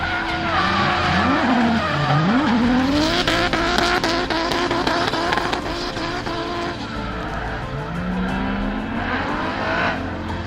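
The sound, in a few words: drift car engine and tire squeal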